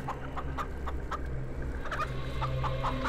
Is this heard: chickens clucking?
yes